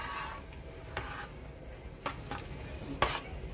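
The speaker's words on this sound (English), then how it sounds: "I'm going to go ahead and give it a stir real fast" Spoon scraping and stirring strawberry jam as it comes to a boil in a pot, a few soft scrapes over a low bubbling hiss, close and quiet.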